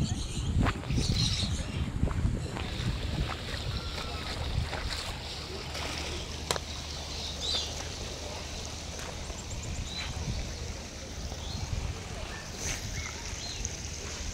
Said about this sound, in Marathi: आणि आता आपण पाण्यामधून चालणार आहोत